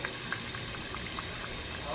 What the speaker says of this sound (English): I got them frying